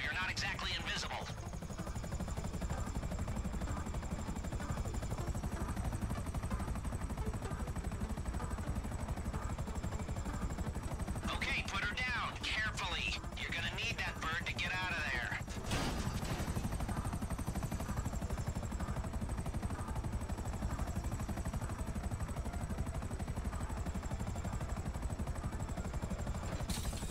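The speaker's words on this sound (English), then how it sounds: "This is a stealth chopper, but it's got rotors." A stealth helicopter in GTA V Online during a Doomsday Heist setup, its rotors giving a loud, steady, continuous whirring drone that fills the whole stretch, with brief bursts of gunfire partway through and a voice talking over it at times.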